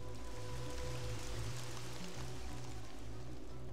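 Rain in the computer game Kyrandia 3, a steady dense hiss with a low rumbling layer and faint tonal hum, constant and fairly quiet throughout.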